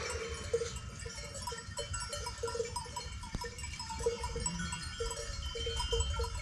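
A flock of sheep wanders with bells clanking in irregular, overlapping rings, faint bleats and rustling movement underneath, heard at a modest distance outdoors with no talk.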